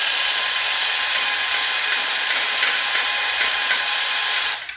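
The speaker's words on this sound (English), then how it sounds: "taking a drill with a 7/16, putting it on here and spinning the lifter." A power drill fitted with a 7/16 bit spins a lifter in the bore of a barn-find Ford flathead V8 during engine assembly, a steady close whine that holds without a break for nearly five seconds, then cuts off.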